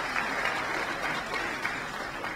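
Audience applause at Secretary Kerry's remarks at the APEC CEO Summit, a dense steady clapping from a large crowd lasting a couple of seconds without pause.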